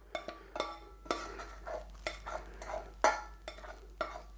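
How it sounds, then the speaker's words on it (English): Chicken wings being stirred through sauce in a pan, with a series of soft irregular scrapes and clinks of a utensil against the pan, close and fairly quiet, no talk. "Give it a good mix around."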